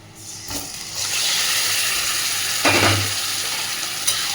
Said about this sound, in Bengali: তার জন্য আমি দিয়ে দেবো একটা পেঁয়াজ ফোড়ন পেঁয়াজটা এরকমভাবে ভেজে নিলাম